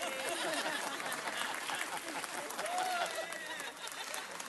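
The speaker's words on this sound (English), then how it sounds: "Let's all give him a big round of applause." Audience applause for Herb Wesson as he is welcomed to receive a Lincoln University sweatshirt, steady clapping with some crowd chatter and laughter mixed in throughout.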